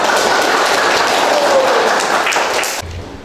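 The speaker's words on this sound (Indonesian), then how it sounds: "tepuk tangan untuk kita semua" A classroom of students applauds at the end of a history lesson, a dense, steady wash of many hands clapping that fades out near the end.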